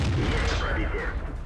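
A tank cannon shell from an enemy T-110E4 slams into an Object 140 in World of Tanks, a dense booming impact and rumble filling the short moment, loud and close.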